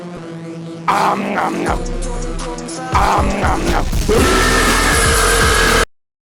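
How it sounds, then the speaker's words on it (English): A low, eerie hum swells in stages, jumping louder in a couple of steps with droning tones and rumbling before cutting off abruptly. "It began to hum again, louder and louder"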